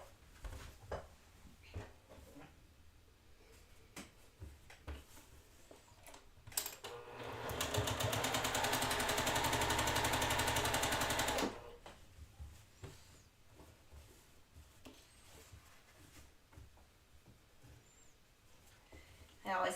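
A sewing machine stitches a quilt block seam in one steady, loud, continuous run of about four seconds, with quieter handling noises and talk before and after.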